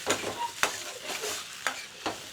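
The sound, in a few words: stirring tomato puree into chicken makhani in pan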